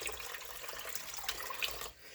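Water splashes steadily into a cooking pot, eight cups in all, for simple syrup used in water bath canning peaches. The pour is close and continuous, then cuts off abruptly near the end.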